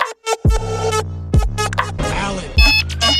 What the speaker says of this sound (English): who among us could forget the instantly iconic Kirby Paint and Tile Plus ringtone?